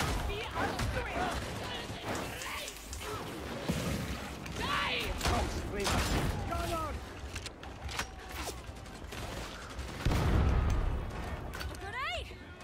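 Grenade blast and bursts of gunfire in the co-op shooter Helldivers 2, with a heavy low boom near the ten-second mark amid a busy battle din, with voices talking and shouting over the action.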